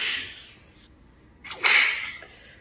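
A whip crack sound effect plays from a phone speaker, a bright hissing burst followed after a short gap by a louder, sharper crack with a breathy tail, close and alone without talk.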